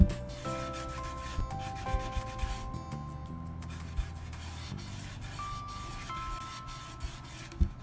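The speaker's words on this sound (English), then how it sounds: "I'm just going to rub back some of the areas, especially along the corners where the paint would have worn." A cloth rag rubs back paint on painted wood along worn corners, giving soft, irregular scrubbing strokes with small knocks, close and fairly quiet with no talking.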